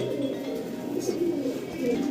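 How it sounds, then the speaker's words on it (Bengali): Fancy pigeons at a farm coo in a dense, low murmur, several birds overlapping continuously at close range with a faint background hiss. "সিঙ্গেল একটা স্টার্লিংয়ের নর দেখাচ্ছি, রিংয়ের 20-এর রিংয়ের।"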